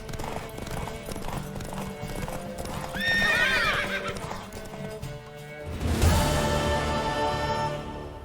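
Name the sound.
horse hooves and neighing in a video game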